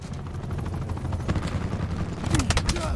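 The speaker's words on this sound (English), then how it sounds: "These fools got a attack chopper?" An attack helicopter in the Call of Duty Black Ops 4 video game thrums under bursts of gunfire and explosions, with a voice speaking briefly over the battle noise.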